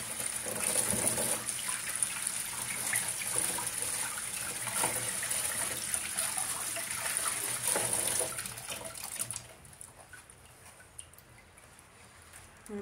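Water trickles and splashes steadily over the leaves of a dead succulent during rinsing, a continuous close hiss with small drips that fades quieter near the end.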